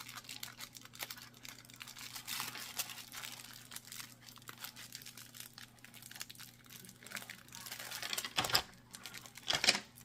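A taped-up package from a Temu haul is torn open, giving faint close crinkles and tape rips, with two sharper tearing bursts near the end.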